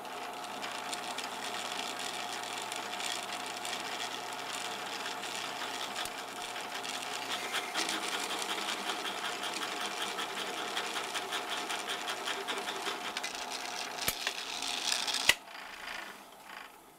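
A groove being cut in a part for a solar sunflower project gives a steady, close mechanical buzz for about fifteen seconds before stopping with a sharp click, then a quieter tail.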